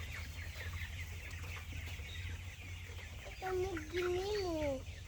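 Chickens being raised at a family home in Bengal cluck over a steady low hum, with a louder run of rising and falling calls near the end; scattered chirps sit in the background and people talk nearby.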